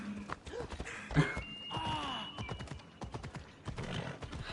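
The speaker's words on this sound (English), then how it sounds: "Yeah, I have a unicorn as my horse." Rapid clip-clop of a galloping unicorn mount's hooves with a whinny in Assassin's Creed Odyssey, over faint background music.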